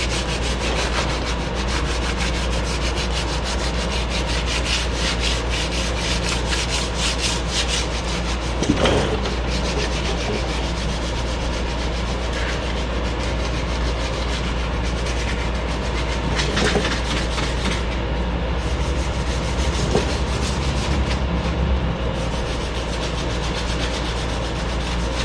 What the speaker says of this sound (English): I'll get the bulk of it with sandpaper